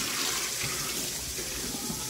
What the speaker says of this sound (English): get some cold water here so we can start to rinse this guy off